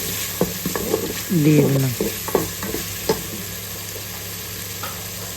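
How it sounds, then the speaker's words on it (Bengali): Garlic and ginger paste sautéing with lentils for bhuna khichuri, a steady sizzle with spoon scrapes and brief stirring knocks, and a short spoken phrase early on. "কষিয়ে নিব আদা রসুনের কাঁচা স্মেল যাওয়া পর্যন্ত"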